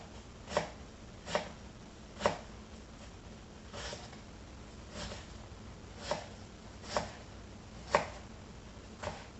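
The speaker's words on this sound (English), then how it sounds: "I'm going to dice about half of it up" A knife dices an onion on a cutting board, giving about nine separate, sharp chops at irregular intervals over a quiet background.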